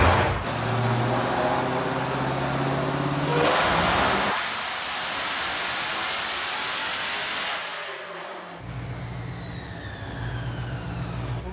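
A manual-transmission Dodge Demon revs hard on a dyno during a second pull while battling heat soak, its loud engine roar sustained and shifting in pitch partway through, with no talking.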